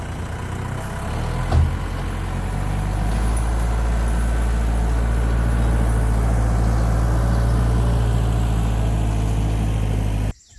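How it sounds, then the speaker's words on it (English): A compact tractor engine runs steadily nearby in deep woods with a low, constant rumble, cutting out abruptly at the very end. "But the tractor will help you see it anyways once I go over it."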